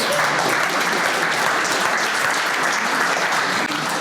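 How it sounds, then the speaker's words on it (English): Steady, sustained applause from a large audience at a startup event in the Netherlands, dense clapping at an even level throughout. "Round of applause."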